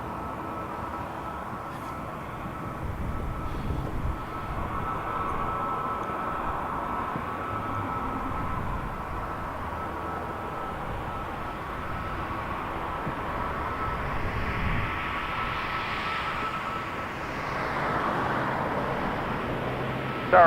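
An Airbus A220 on evening approach into Toronto Pearson airport: a steady, distant jet roar that swells slightly toward the end, blended with a low traffic-like hum, no talk.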